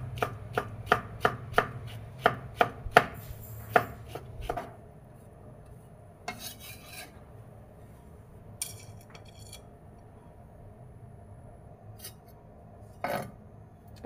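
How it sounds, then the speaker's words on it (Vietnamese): Squeezed oyster mushrooms chopped small with a knife on a board, a quick run of sharp, evenly spaced chops at the start, then a few sparse clicks and taps in near quiet. "Vắt ráo nước rồi mình cắt nhỏ"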